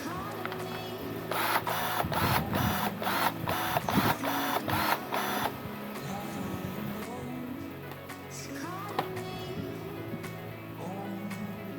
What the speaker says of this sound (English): run it through different size branches, and we can see how easily or difficult this thing will cut through them